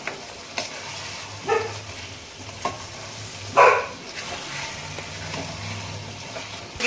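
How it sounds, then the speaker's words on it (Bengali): A spiced potato curry with banana flower is stirred in a pan over gentle sizzling, with a spoon scraping in a few distinct, spaced strokes and one louder scrape near the middle, close up and without talk. "এবারে তরকারিটা একটু কষা মশলা মিশে দিচ্ছি"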